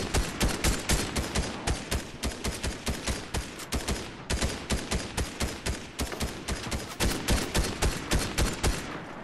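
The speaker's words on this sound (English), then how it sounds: "Oh, babe, you're getting shot." Rapid bursts of gunfire in the video game Fortnite, a dense volley of sharp, evenly spaced shots rattling loudly and almost continuously, with no talk.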